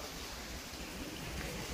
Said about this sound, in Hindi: देखो बारिश भी हो रही है बाहर, मस्त